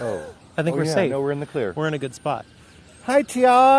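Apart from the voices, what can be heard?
No everyday noises stand out.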